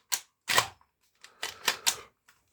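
A foam dart shotgun, not a Nerf model, is handled and fired, giving a series of sharp, close plastic clicks and snaps with short pauses between them and no talk.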